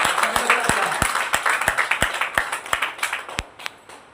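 An audience claps at a property business gathering, the sound thinning out from dense clapping into a few loud, separate claps spaced at a steady beat that fade toward the end.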